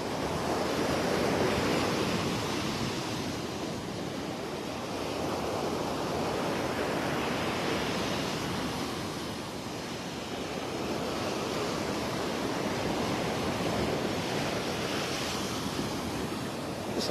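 Ocean surf rolls continuously onto a beach in North Naples, Florida, on a rainy early morning, a steady wash of breaking waves with slow swells in loudness and some wind noise, no voices.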